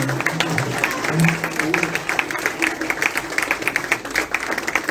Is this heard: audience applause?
yes